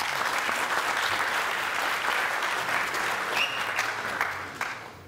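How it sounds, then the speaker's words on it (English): Audience applauding at a conference on AI in Africa in Tunisia: several seconds of dense, steady clapping from a crowd that tapers off at the end. "so round of applause for that."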